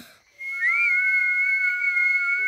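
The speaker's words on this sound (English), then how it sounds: "Please, can you show me how to whistle again?" A clear, sustained whistle that rises briefly and then holds a steady tone, close and fairly loud, with no talking.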